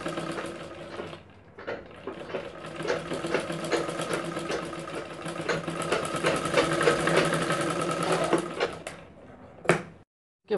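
Electric sewing machine stitching lining and fabric together for a blouse, running in a steady rapid mechanical chatter for several seconds, stopping briefly and restarting, then ending with a couple of sharp clunks.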